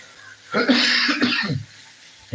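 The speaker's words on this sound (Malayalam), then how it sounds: "ചുമ വലിയൊരു ചുമ ആയിപ്പോയിട്ടുണ്ടെങ്കിലും" A single harsh, rasping cough lasting about a second, close and loud, with quiet before and after.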